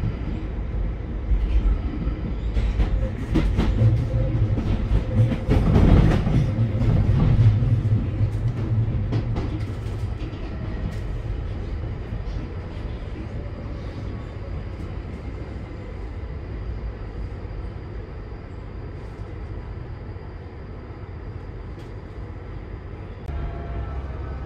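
A London Underground 1995 Tube Stock train on the Northern Line runs along the track, a loud rumbling roar that swells and peaks early, then eases into a steady, softer drone of wheels and motors.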